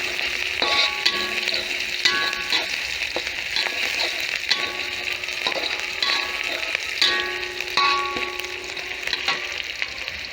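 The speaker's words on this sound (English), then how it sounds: "put in your onions and your garlic that you chopped earlier, that you roughly chopped earlier, okay? Give it a fry." Roughly chopped onions and garlic fry in a hot pan with a steady crackling sizzle, and occasional stirring scrapes and clinks come through at intervals, all close by and with no talking.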